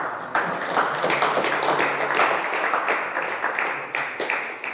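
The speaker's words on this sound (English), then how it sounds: "So I just want to give him one more round of applause." An audience at a legislative press conference in New Haven City Hall gives a round of applause: a burst of close, distinct hand claps from a modest crowd that sets in suddenly and keeps an uneven, lively rhythm.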